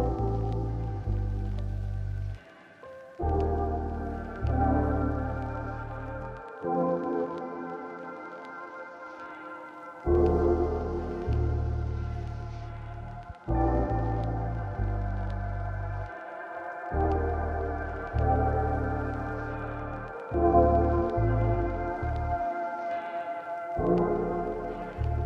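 Beat with violin, pitched down three semitones: deep bass notes pulse in chopped sections under sustained string-like tones, playing steadily and loud with brief dropouts between phrases.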